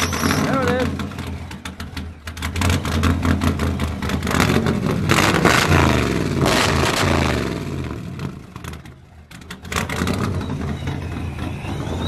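Ford Bronco engine revved hard, a loud, close, rough roar that rises and holds, dips briefly, then climbs again, with people talking over it.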